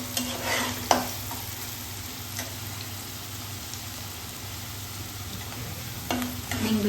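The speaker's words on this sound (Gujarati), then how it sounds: "સાંતળી લઈશું ડુંગળી" Onions sauté over a raised flame for Gujarati vaghareli khichdi, giving a constant, even sizzle. A few sharp spatula clinks and stirs sound near the start and end, with no speech.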